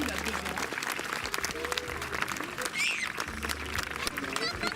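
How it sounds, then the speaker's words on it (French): A crowd at a medieval festival falconry display applauds a falcon, with dense, close clapping throughout and a few cheers and voices mixed in. "Vous pouvez l'applaudir très fort"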